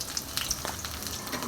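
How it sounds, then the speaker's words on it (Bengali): Chopped onion and green chilli sizzle and crackle steadily in hot oil in a pan, a brief, fairly quiet frying sound with no talking. "এখন পেঁয়াজ আর কাঁচামরিচ কুচিটা একসাথে দিলাম তেলের মধ্যে।"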